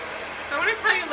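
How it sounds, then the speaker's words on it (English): A Paul Mitchell Neuro Dry professional blow dryer hums and whooshes steadily nearby while it dries a client's hair, with a person's voice coming in briefly over it. "It's the best blow dryer I've ever had. It's Paul Mitchell's Neuro Dry. It's a professional high performance dryer"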